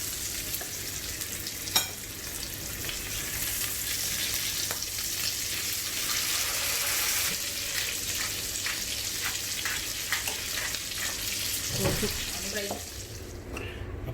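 Fish frying in a pan with crushed pepper sprinkled on top, a steady close sizzle of hot oil running throughout, with a few louder crackles and spatters as the pieces are flipped near the end.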